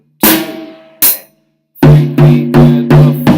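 A drum kit plays a beginner rock beat, with two sharp, ringing tom strikes spaced apart, a short gap, then a quicker run of six punchy, resonant hits in an even sixteenth-note pattern, loud and close with no voices.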